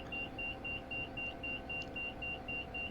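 Low whine and rumble from a Bell 206 helicopter rotor spinning down in X-Plane, with a steady beeping alert pulsing at an even pace over the quiet drone.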